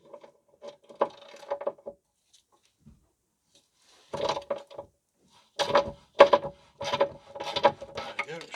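A ratchet cracks loose the two 15mm bolts on a Ford Focus or C-Max rear gearbox mount, giving short bursts of clicking and metallic knocks separated by quiet gaps, the busiest stretch coming in the last few seconds.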